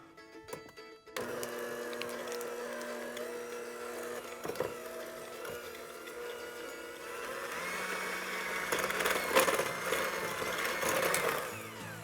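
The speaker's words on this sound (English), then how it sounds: "grab your hand mixer and beat the butter and the sugar together until it's pale and fluffy" A hand mixer beats butter and sugar in a steady electric whir with a rattling, churning edge, starting after a short pause and growing louder and busier toward the end.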